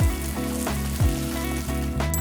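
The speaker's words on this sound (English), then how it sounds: "Pour olive oil into the pan and put on the meat." Steak frying in olive oil in a pan, a steady close sizzle running unbroken for a couple of seconds.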